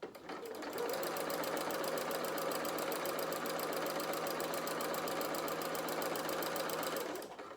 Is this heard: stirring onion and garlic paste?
no